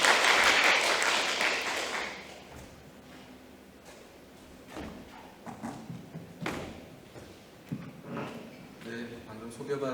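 Audience applause at a public forum on Seoul's bulky and electronic waste, loud and dense clapping at the start that fades within about two seconds, followed by scattered thumps and a quieter room.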